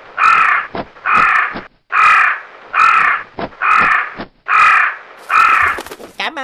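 In an animated fairy tale, a bird gives seven loud, harsh caws in an even rhythm, close and clear, with a brief rustle at the end.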